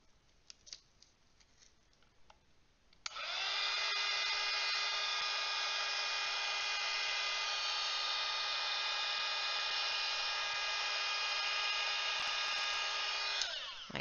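A heat gun switches on with a sharp click and then blows a loud, steady rushing roar of hot air onto a paper picture, running unbroken for about ten seconds before cutting off.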